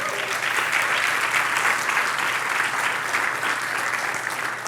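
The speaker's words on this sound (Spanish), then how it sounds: "¿Le puedes dar un aplauso al Señor por eso?" A church congregation breaks into applause during a sermon, a steady, full burst of many hands clapping together that carries evenly to the end.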